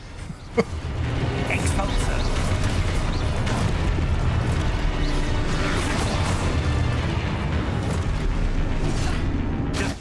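Confringo, an explosive spell in Hogwarts Legacy, bursts amid a loud, dense wash of game effects, with booming hits and crackles over sustained noise while a voice talks over it.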